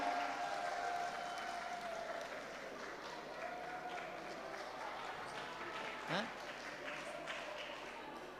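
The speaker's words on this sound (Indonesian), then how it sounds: "Tepuk tangan." Steady applause from a congregation at a church service fills the whole stretch at a moderate distance, with a faint tone ringing early on.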